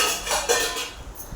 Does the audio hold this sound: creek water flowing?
no